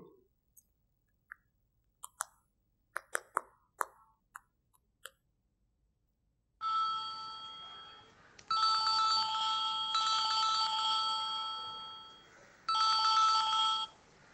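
A phone call being placed: a few soft button taps, then a ringback tone in repeated long bursts with short pauses between them, clear and fairly quiet, with nobody speaking.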